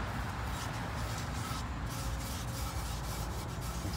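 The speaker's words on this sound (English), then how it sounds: "of penetrating oil, on a rag, and then wipe this down" An oily rag soaked in penetrating oil rubs over the wheel hub of a 2011 Kia Soul during a rear brake and rotor job, a faint continuous scrubbing swish, close by with no talking.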